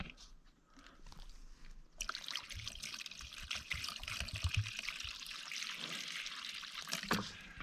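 Water trickles and splashes softly into a dog's water bowl outdoors, a quiet, continuous pour lasting several seconds with faint crunching and handling noises.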